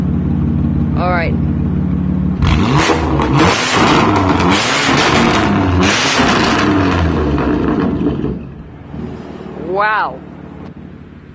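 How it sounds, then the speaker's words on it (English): A BMW M4 sports car with an Armytrix exhaust barks and booms through loud revs, bracketed by short bursts of speech at the start and end. "here we have an M4 with an Armatrix exhaust."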